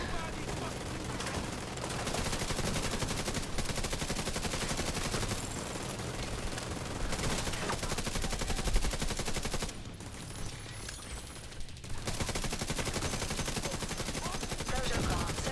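Gunfire in a shooter video game, with dense, continuous volleys of shots and bursts layered over game noise, loud and sustained throughout with only brief dips.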